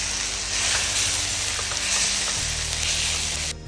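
Turmeric and spices for masoor dal sizzle steadily in a hot pan while being stirred, a continuous close hiss with faint scraping, cutting off abruptly near the end.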